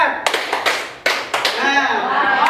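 A class of schoolchildren claps along to a counted pattern, sharp separate claps in groups, with a teacher's voice leading and children's voices mixed in.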